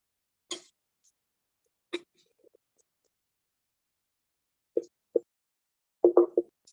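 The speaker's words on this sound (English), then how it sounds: "I'm going to add this plantain in here." Slices of plantain dropped into a pan during a Black History Month cooking class, heard as a few soft, isolated plops and taps spaced apart, ending in a quick cluster of louder knocks.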